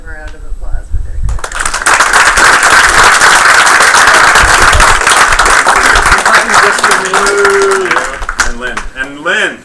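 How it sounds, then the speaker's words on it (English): An awards ceremony crowd breaks into loud, sustained clapping after a moment of talk, the applause fading out as a voice returns. "I just want to give them a round of applause"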